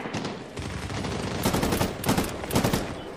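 Gunfire in the video game Medal of Honor: Warfighter crackles in dense volleys, with several sharper, louder bursts of shots rising out of a steady background of battle noise.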